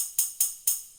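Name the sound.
tambourine one-shot sample in FL Studio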